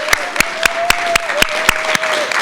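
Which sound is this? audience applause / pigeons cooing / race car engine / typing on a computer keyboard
audience applause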